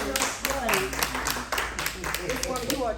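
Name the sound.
audience clapping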